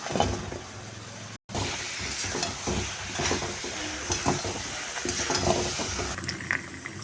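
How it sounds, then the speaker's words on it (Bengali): Eggplant pieces frying and being stirred into a cooked-down paste of ground spices with salt and turmeric, a steady sizzle with scraping stir strokes throughout and a brief dropout near the start, no talking. "মশলা কষানো হয়ে গেল, এখন দিয়ে দিব বেগুনগুলো।"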